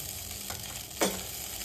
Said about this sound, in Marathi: आणि आता पुन्हा एकदा पोहे व्यवस्थित हलवायचे.